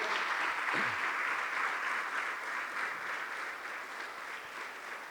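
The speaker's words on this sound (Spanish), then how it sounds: "dele fuerte las palmas al Señor" A church congregation claps together at a worship service, a dense steady patter of many hands that fades gradually over a few seconds.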